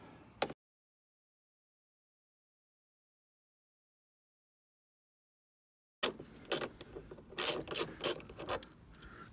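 A T30 wrench ratchets against the turn signal housing on a 2019 Can-Am Spyder F3 Limited, with one short click at the start, then a long silence and a burst of close, sharp ratcheting clicks in irregular bursts.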